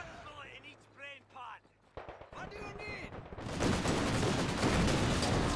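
An armored car firing in the video game Company of Heroes 2. Speech comes first, then a dense, sustained rattle of gunfire rises and fills the last two seconds.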